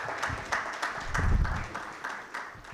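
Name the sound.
conference audience applause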